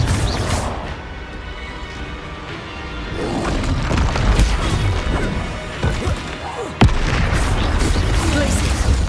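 Confringo explosive spells blast repeatedly during a Hogwarts Legacy battle, loud smashing crashes and booms bursting over dense combat noise, with one sharp crack near the end and voices shouting among the impacts.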